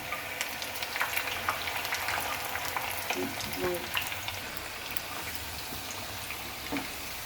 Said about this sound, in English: Any cooking oil, we use sunflower oil, and fry it till it's nicely done.